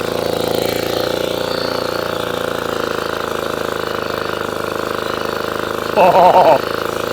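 A vintage Atco kick-start lawnmower engine runs steadily close by, a loud continuous mechanical drone with a rough, vibrating idle, and a brief burst of bright rattling noise near the end.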